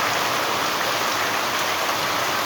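Steady heavy rain pours down on a courtyard, a dense continuous hiss with no breaks or voices.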